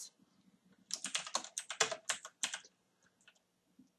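A computer keyboard clatters in a quick close burst of keystrokes as code is typed, followed by a few scattered soft taps.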